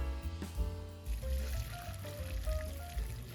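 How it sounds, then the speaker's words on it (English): Water from a pot of boiled, fork-tender potato chunks pouring and trickling out as the potatoes are drained, a steady close stream of splashing liquid over low background noise, with no talking. "drain off the water."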